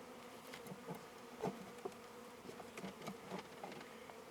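Honey bees buzz around an open hive during an autumn homestead inspection, a steady insect drone with scattered louder passes as individual bees fly close, heard alone without talk.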